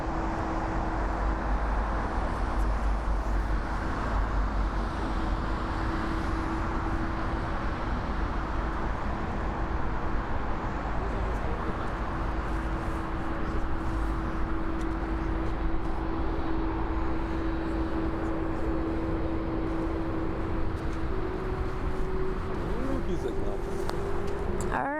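A 21-year-old Boeing 747-430 bound for Bangalore takes off at Frankfurt Airport on its second attempt, a steady loud engine roar with a sustained tonal whine, heard close throughout.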